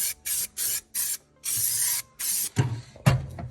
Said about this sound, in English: we'll move ahead with getting some black paint on this